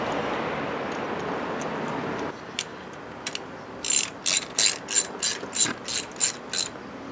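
A ratchet wrench clicks in a quick run of about nine sharp bursts, close and loud, as a spark plug is run down on a 2011 Hyundai Elantra Touring, after a few isolated ticks and a stretch of low hiss.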